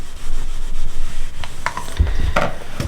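Iron pressed and rubbed across a quilt fabric strip, a loud close scraping, sliding swish in repeated strokes, with a few soft knocks near the end and no voices.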